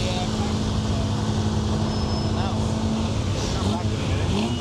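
Vintage Bugatti cars running at the Prescott hill climb, a loud steady engine drone with a passing whine, with voices talking over it.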